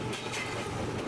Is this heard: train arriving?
yes